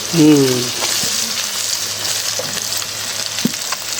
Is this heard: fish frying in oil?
yes